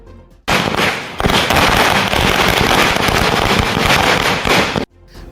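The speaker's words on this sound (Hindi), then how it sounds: "आतिशबाजी का शोर है।" Fireworks and firecrackers going off at election victory celebrations in India, a dense, loud continuous crackle of rapid bursts and pops lasting several seconds, with brief quieter gaps at the start and end.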